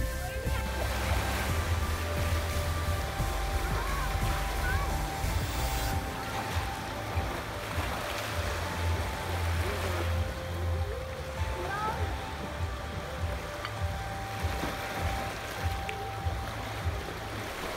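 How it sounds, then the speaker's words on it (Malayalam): Sea waves wash up a beach at Ras Al Khaimah in a steady, broad surf wash, with wind noise throughout and faint voices in the background. "വെള്ളം പതുക്കെ മുന്നോട്ട് കയറിക്കൊണ്ടിരിക്കുകയാണ്"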